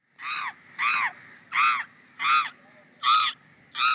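A voice mimics a crow, giving six harsh, evenly spaced caws, loud and close, with short pauses between each.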